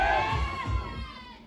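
A crowd at a motivational gathering cheers and shouts in a loud burst that fades over about a second and a half, with no clear clapping standing out.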